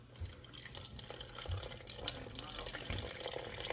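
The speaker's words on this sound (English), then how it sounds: "Pour that juice in there, along with the oranges." Mandarin orange juice and slices are poured into a bowl of vanilla pudding dessert, making a steady soft liquid splash and trickle with a few heavier plops throughout.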